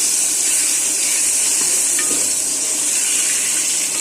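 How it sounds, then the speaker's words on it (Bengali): Three eggs fry in oil in a pan, a dense, steady sizzle with crackling that stays loud and continuous without any talk. "এখন দিয়ে দেব 3টা ডিম। ভালো করে এটা ভেজে নিব।"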